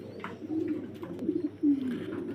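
Pigeons coo at a large pigeon farm in Faridpur, low throaty calls rolling in soft overlapping phrases with one louder coo near the end, fairly close and alone without talk.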